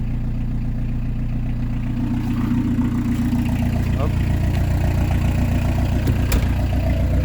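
A PSA XUD diesel engine fitted with an inline injection pump idles with a steady low clatter, then revs up somewhat, running loud and close throughout, with someone talking over it.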